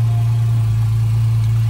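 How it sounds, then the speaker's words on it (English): A 2016 Porsche Carrera 4 GTS idles with its sport exhaust, giving a steady, close, deep engine hum with a constant low drone and no revving. "Of course, at idle, there's not much of an adjustment in the sound of the sport exhaust."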